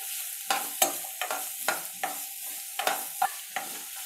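Onion frying in oil and melted butter is stirred with repeated scraping strokes about twice a second over a steady close sizzle.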